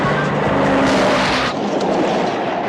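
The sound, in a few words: old Dodge Charger driving fast on rough surface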